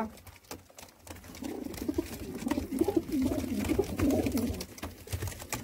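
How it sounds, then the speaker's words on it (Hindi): A flock of sale pigeons, white Sialkoti among them, coos steadily in low rolling throaty calls, building louder through the middle and overlapping close by. "देख लें जी कबूतर"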